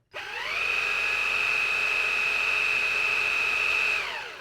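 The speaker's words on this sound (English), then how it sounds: "And here's a close-up of the soft roller brush in action." Close by, a Dreame R10 Pro cordless vacuum cleaner fitted with a soft roller brush spins up into a steady high-pitched motor whine, holds it evenly for several seconds, then powers down with a falling tone.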